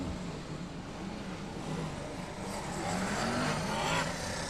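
BriSCA Formula 1 stock cars race through the closing laps of the Grand Prix Classic, engines droning continuously at a steady distance with a slight rise in intensity, no voices over the roar.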